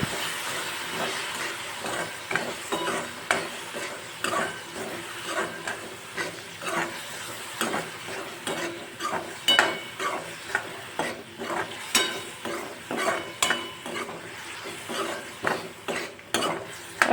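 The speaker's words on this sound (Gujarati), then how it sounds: "ટમેટામાંથી સાઈડમાંથી તેલ છૂટું પડે ત્યાં સુધી એને હું કૂક કરી લઈશ" Finely chopped tomato frying in oil with garlic paste for a moth bean curry, stirred continuously: a rhythmic run of close spatula scrapes over a soft sizzle, with no voices.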